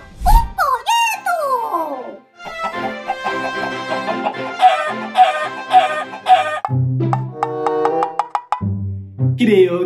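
A chicken clucks and crows loudly and close by, a string of squawking calls with short pauses between them.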